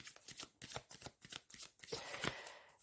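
Tarot cards being shuffled and drawn, a run of quick riffling card snaps and flicks close by, ending in a denser flurry of shuffling.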